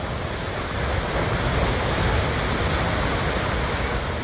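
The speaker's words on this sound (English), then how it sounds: "With a straight fall of 442 feet, Akaka Falls is twice the height of Niagara Falls" Akaka Falls on the Big Island of Hawaii, a 442-foot straight drop, roars as a steady, dense broadband rush of falling water that holds even and loud throughout with no voices.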